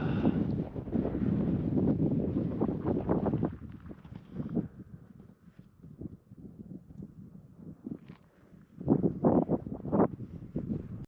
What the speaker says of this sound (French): Le vent, c'est un vent de terre là.